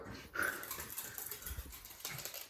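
A dog whimpers softly at home amid drywall and bathroom floor renovation work, a few faint, high whines over a quiet room, with small clicks and bumps in the background.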